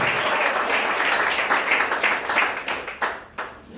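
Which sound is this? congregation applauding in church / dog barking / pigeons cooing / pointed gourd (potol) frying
congregation applauding in church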